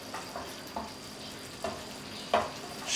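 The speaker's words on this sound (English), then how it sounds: "Stir it all round, keep it cooking." A spoon stirs chicken pasanda, a mild creamy coconut curry, in a pan, with soft scraping strokes every second or so over a steady low sizzle, close and fairly quiet, with no voices.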